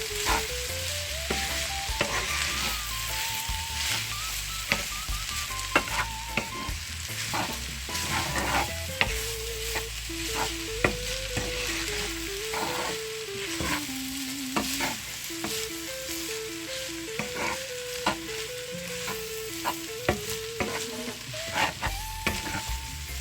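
Chicken fried rice frying and being stirred in a pan, a steady close sizzle with scraping stir strokes throughout, with a melody playing over it and no talking.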